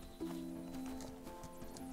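Hooves from a horse in the horse-riding video game Star Equestrian clip-clop faintly in a steady rhythm beneath tonal game music; no clear whinny stands out.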